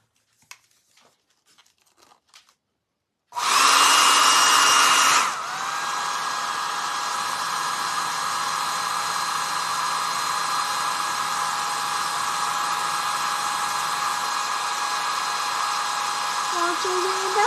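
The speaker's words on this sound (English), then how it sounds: "I am going to take the dryer and give this a real quick little dry" After a few faint handling clicks, a hair dryer switches on to dry a decoupaged wooden tag. It blasts loudly at first, then settles into a steady, continuous close whoosh and whine for the rest of the moment.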